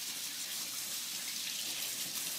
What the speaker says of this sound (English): run it underneath some cold water.